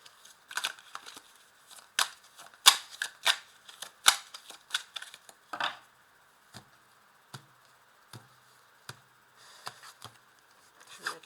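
Tarot cards being shuffled and laid out during a reading: a steady run of crisp card snaps and flicks, some clustered and some spaced apart, close and fairly quiet with no talk.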